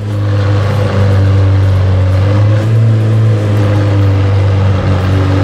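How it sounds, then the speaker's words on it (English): A McLaren Senna supercar runs close by outdoors with a loud, steady engine drone and strong low harmonics, swelling slightly as it revs, with no talk over it. "is that Shmee driving his own Senna outside?"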